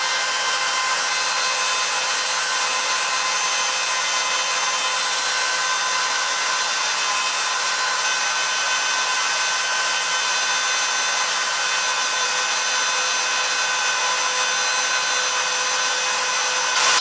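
Rotary tool fitted with carving burrs grinding into a hybrid linoleum printing block, the same burrs once used on brass; a steady, close, high-pitched whine with rough scraping texture runs unbroken throughout, no voices.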